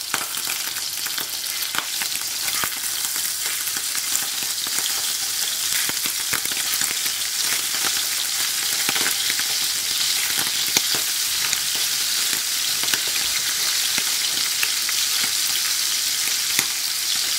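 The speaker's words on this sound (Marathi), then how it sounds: "आमकां ही प्रॉन्स शॅलो फ्राय करूंक जाय, डीप फ्राय करूंक नाका." Prawns shallow frying in hot oil for a Goan prawn pickle, giving a steady, close, continuous sizzle with fine crackling throughout and no talking.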